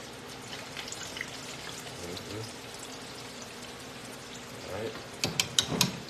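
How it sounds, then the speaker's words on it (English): Water poured into a hot pan of frying lobster sets off a soft sizzle that swells into sharper crackles and spits near the end, close and moderately loud. "Add a little water"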